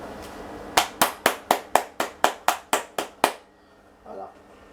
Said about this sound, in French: Voilà, ça mérite un applaudissement.